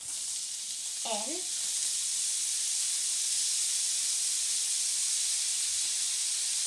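Onions hitting a hot pan used for meatballs, a loud continuous sizzle and hiss that holds steady after a short spoken remark near the start.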